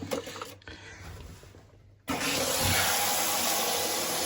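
Mains water gushes hard into a fixture under very high pressure during a UK plumbing job, starting with a sudden loud burst after a quieter trickle and then roaring steadily and close, with no one talking.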